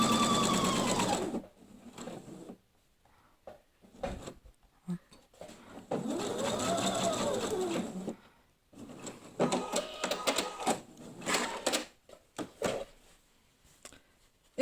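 Sewing machine stitching a seam on fabric for an advent calendar, several bursts of steady whirring separated by short pauses, close and fairly loud with no talk.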